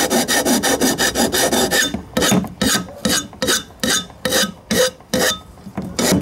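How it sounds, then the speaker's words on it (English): Hand file scraping down a sharp aluminum edge on a turbo kit install: loud, close, rhythmic rasping strokes, quick and even at first, then slower separate strokes with short pauses between them. "with this file I was able to take a lot of that sharp aluminum off"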